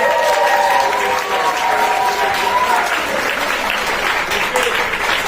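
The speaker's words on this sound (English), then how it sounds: "We cheer and we applaud because questions are always welcome here with Mr. Bernstein, okay?" A crowd cheers and applauds steadily throughout, dense clapping mixed with whoops and raised voices.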